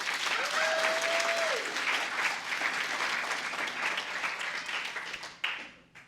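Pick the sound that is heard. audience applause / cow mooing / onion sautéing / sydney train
audience applause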